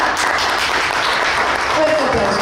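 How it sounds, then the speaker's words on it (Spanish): Audience applause fills the whole moment as a dense, steady wash of clapping at a literary horror reading gathering, loud and continuous with faint voices mixed in. "Fuerte aplauso, por favor."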